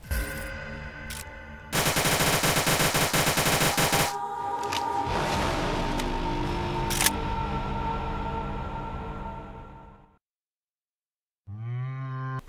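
JS9 SMG reload and inspect animation sounds from the Roblox game Project Lazarus: loud mechanical clacks and rattles followed by a sustained whirring, buzzing mechanical drone, a short silence, then a rising tonal sound.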